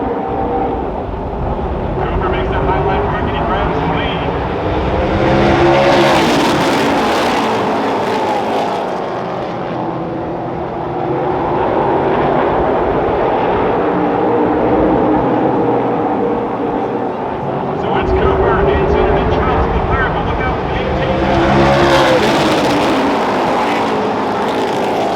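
Race car engines at a NASCAR track roar past twice, each swelling loud, then fading into a steady distant drone, with a voice talking over the din.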